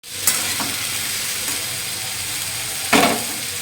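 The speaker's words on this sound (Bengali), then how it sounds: "আলু ভাজাটা বসিয়ে দিলাম" Potatoes and onions frying in a pan give a constant close sizzle and hiss, broken by a few sharp stirring scrapes near the start and end, no talking.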